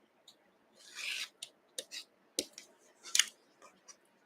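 Scissors cutting quilting fabric, a series of soft, close snips and rasping cuts with small pauses between them, quiet and with no talking.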